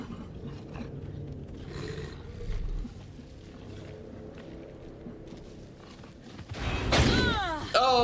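A wolf monster in Alan Wake II growls low and rumbling under a voice, then erupts near the end into a loud, close roaring snarl with rising tonal howls.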